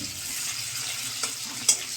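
A short, steady sizzle of vegetables frying in a pan, with a couple of soft utensil clicks near the end; no voices.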